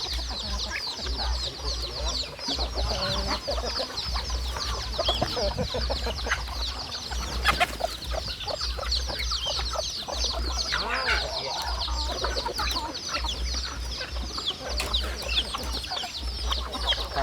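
Several chickens cluck and chatter close by in a continuous, busy flurry, with a low steady hum underneath and faint voices now and then.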